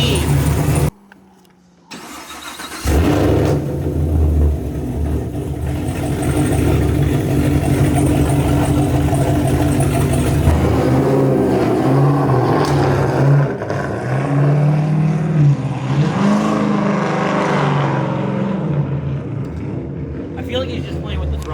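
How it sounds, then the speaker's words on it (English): A car engine fitted with a Whipple supercharger starts and idles loudly, then rises and falls through repeated throttle blips and revs, with people talking nearby. "I feel like he's just playing with the throttle."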